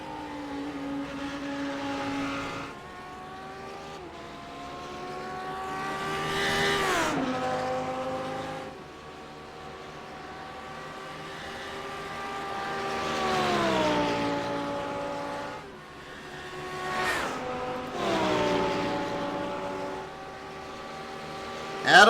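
GT3 race cars roar along the Watkins Glen front straightaway, their engines rising and falling in pitch through gear changes as several cars pass one after another, loud and close with Doppler sweeps.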